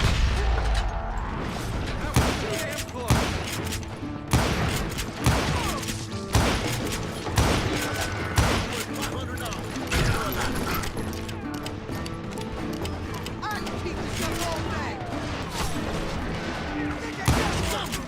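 Rapid shootout gunfire in the Wild West video game Call of Juarez: Gunslinger, with sharp repeated shots and booms across the whole stretch over a dense, loud game soundscape.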